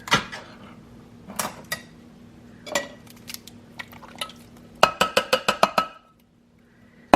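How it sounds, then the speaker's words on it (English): Clinks and clatters of cans and metal utensils as two cans of diced tomatoes go into a cooking pot in a home kitchen, scattered knocks, then a quick run of ringing taps before a short quiet. "We're gonna add in 2 cans of diced tomatoes."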